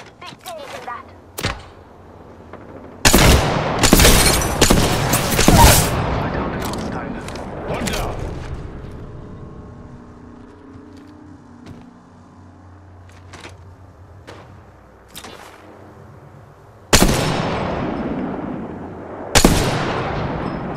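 Sharp gunshots and heavy bursts of fire ring out in the video game Apex Legends, a loud volley early on, scattered shots through a quieter middle, then two more loud bursts near the end, with voices talking over the action.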